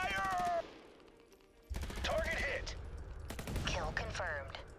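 Bursts of automatic gunfire from the video game USC Counterforce, loud and dense at the start, then a quieter gap before rapid volleys resume alongside squeaky game sound effects.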